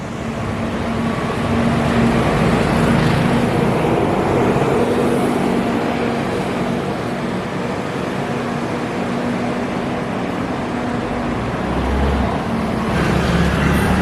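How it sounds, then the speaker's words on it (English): A bus moving down a narrow street in Taiwan, a loud steady engine rumble and road roar that holds throughout with a low idle-like tone near the end. "Damn, they really brought a bus down this street"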